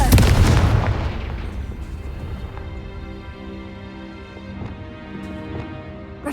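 A Confringo spell explosion in the video game Hogwarts Legacy, a single heavy boom at the start that rolls off into a fading rumble and ringing tail, with no talking.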